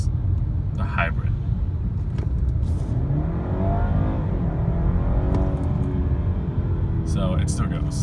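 A BMW 330e plug-in hybrid accelerating: a steady low engine and road rumble fills the cabin, with a rising engine note swelling midway, and faint voices underneath.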